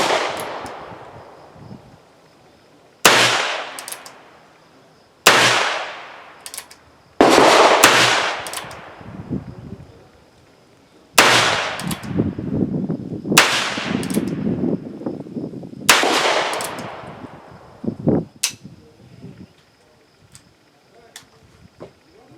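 Heritage Rough Rider .22 revolver fired outdoors at a range, about eight sharp, loud shots spaced one to three seconds apart, each ringing out with a decaying tail, with faint background noise between.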